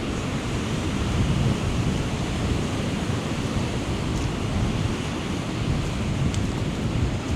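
Surf rolls steadily onto a beach as the tide comes in after Storm Amy, a continuous loud wash of breaking waves with wind buffeting the microphone throughout.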